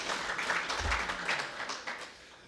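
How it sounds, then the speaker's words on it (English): Audience applause in a hall at a storytelling event, a steady wash of many hands clapping at moderate volume, continuing evenly for a couple of seconds before easing off slightly. "You can clap."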